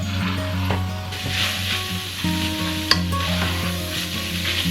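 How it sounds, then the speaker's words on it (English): Ground beef browns in a hot pan while a meat masher breaks it up, a steady close sizzle with scraping and clicking from the masher, no talk. "I'm just going to use my little masher, little meat masher, and I'm just gonna get it all broke up."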